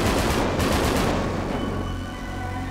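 Rapid gunfire in GTA 5 zombie survival, a loud dense burst of automatic shots in the first half that thins out and fades into a trailing echo.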